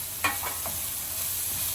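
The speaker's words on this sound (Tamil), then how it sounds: "இஞ்சியும் ஆட் பண்ணிவிட்டு இன்னும் கொஞ்சம் நல்லா ஃப்ரை பண்ணி வெங்காயம் கொஞ்சம் ப்ரௌன் ஆகிற" Onions with green chilli and ginger sizzle steadily in a pan for vegetable upma, with a steady frying hiss and a few quick stirring scrapes near the start, short and close.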